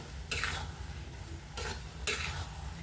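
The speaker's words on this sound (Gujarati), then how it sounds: "એકદમ હલાવી જ રાખવાનું બ્રાઉન કલરનું ના થાય ત્યાં સુધીને હલાવી રાખવાનું" An adadiya mixture is stirred in a pan, giving three short scraping strokes over a soft, steady sizzle close by, with no talk.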